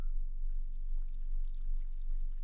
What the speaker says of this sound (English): Oh, we need to pour it in glass actually right now.